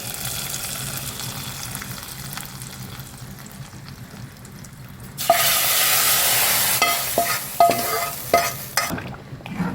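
A hot tempering poured into mango sambar. Quiet stirring and faint crackle come first, then a sudden loud hiss of sizzling that slowly fades, broken by several sharp spoon clinks near the end.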